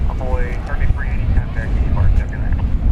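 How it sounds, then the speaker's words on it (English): A departing airplane on a DFW Airport runway at dusk on a breezy evening gives a steady, loud low rumble mixed with wind, with voices running over it throughout. "Departure from runway 380"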